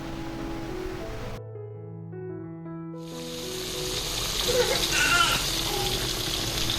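Marinated catfish fries in hot oil, with a loud, dense sizzle rising after a tonal musical passage and continuing steadily with crackling bursts.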